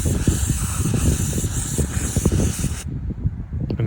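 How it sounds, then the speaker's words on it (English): A close, steady hiss of an aerosol cleaner spraying continuously into a car's mass airflow sensor for a few seconds, then cutting off abruptly, followed by faint handling noise. "give it a good spray"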